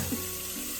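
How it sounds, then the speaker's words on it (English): A kitchen faucet runs steadily into a sink, giving a constant, close, rushing stream of water with no voices over it. "You need to turn on your faucet."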